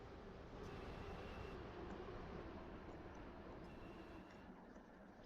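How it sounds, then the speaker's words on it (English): A passing train in a Roblox railway game, a steady broadband rumble holding level for several seconds without talk. "Oh, it was just a good old noob train."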